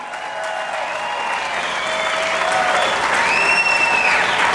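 A tea party gathering gives a round of applause for state representatives, full steady clapping that swells slightly, with thin ringing tones drifting over it.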